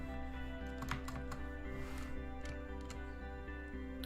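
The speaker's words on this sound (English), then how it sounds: "maybe if he just smashed his name all over the keyboard, like this" Rapid, busy clicking of a computer keyboard being mashed, with keys clattering continuously over a loud steady hum of background noise.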